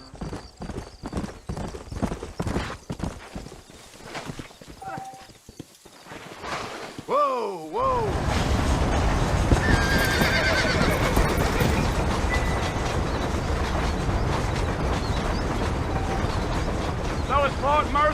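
Hooves clip-clop in a steady trotting rhythm in the video game Red Dead Redemption, joined by a horse's whinny, then a louder continuous rumble of hooves and wheels with wind.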